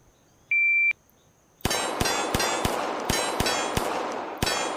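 A single electronic shot-timer beep sounds at an outdoor shooting range, followed after a pause by a string of about eight sharp pistol shots in steady rhythm, loud and close.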